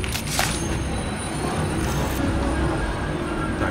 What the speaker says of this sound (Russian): Так, пришел поезд.